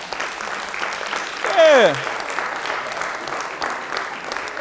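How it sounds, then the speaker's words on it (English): Steady applause from an audience after a talk, continuous and moderately loud throughout, with a brief spoken exclamation rising over it partway through. "Start the applause."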